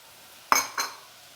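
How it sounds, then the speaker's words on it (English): A spoon stirs beef or vegetable bouillon into warm water, striking the container in two close, bright clinks and then scraping softly. "And give it just a little stir."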